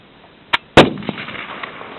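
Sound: machine gun crew firing at a shooting demonstration

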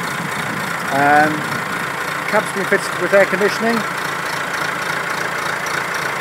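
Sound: Massey Ferguson MF 362 tractor engine idling

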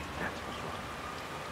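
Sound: rain at night in the video game Hitman 3

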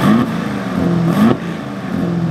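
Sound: Aston Martin DBX engine revving exhaust in GT mode

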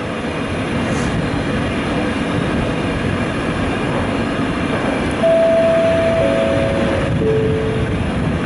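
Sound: train passing on railway

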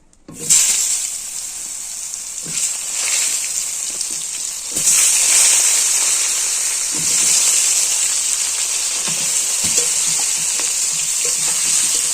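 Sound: flowers frying in oil

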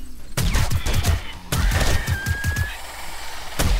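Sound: heavy-recoil gun firing in the video game 7 Days to Die

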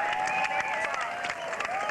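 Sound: crowd cheering and applauding a runner at the finish line

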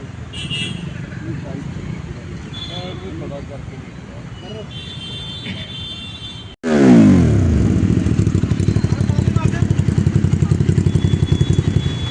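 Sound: motorcycle with double silencer exhaust

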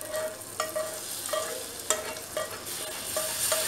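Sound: spice tempering (tadka) poured into Amritsari chole, sizzling

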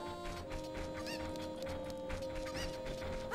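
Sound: cucco chickens clucking in Zelda: Ocarina of Time video game

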